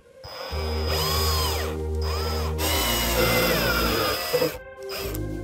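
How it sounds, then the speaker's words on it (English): A power drill whines steadily at high speed boring into wood in a 1996 Ford Econoline van's center console, its pitch rising and falling as the bit bores in, broken by a few brief pauses. "I got the drill bit marked with a Sharpie so we don't drill all the way through."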